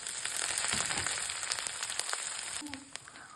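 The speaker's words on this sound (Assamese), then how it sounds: "মাছ ফ্ৰাই কৰা তেলতে মেথিগুটি কেইটামান আৰু নহৰু পেষ্ট, তাৰ লগতে নৰসিংহ পাত কেইটামান দি ভাজি ল'ব" Fenugreek seeds, garlic paste and curry leaves fry in oil left from frying fish, giving a close, crackling sizzle with sharp spitting pops throughout, fairly soft, no one speaking.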